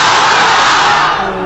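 A large crowd chants takbir together in one loud, sustained roar of many voices that fills the air evenly and fades only slightly at the end.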